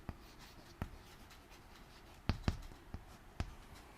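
Writing on a board during an English grammar lesson gives faint scratches and a few sharp taps, quiet and close, with no talk.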